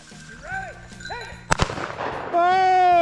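Shotgun blasts fired at a flushed game bird during a hunt, with a sharp close double report in the middle under birdsong and rustling, followed by a sustained tone.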